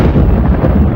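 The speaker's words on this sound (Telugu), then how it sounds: "అయ్యో, ఉరుముతోంది. వర్షం వస్తుందేమో." Thunder rolls overhead as a deep, loud, continuous rumble that fills the whole second with no break and no voices.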